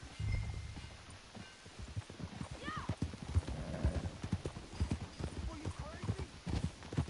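Steady clip-clop of horse hooves moving at a walk in the video game Red Dead Redemption 2, with a brief horse whinny partway through and some speech over it.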